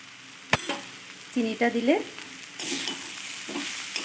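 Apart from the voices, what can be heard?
stirring banana flower curry in a pan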